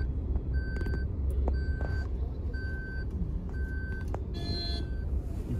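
A bus parks while reversing beeps sound in a regular repeating pattern over a low engine rumble, with traffic noise around.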